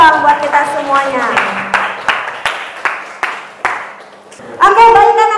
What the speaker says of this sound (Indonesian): Oke, tepuk tangan dulu dong buat kita semuanya